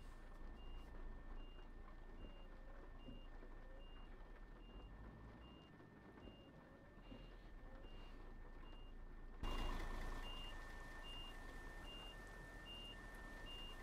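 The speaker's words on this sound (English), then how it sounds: "Nice reversing beeper." A reversing beeper on a Volvo 8X2 double-decker bus in Euro Truck Simulator 2, evenly spaced electronic beeps repeating steadily over a low engine rumble, with the volume jumping up partway through.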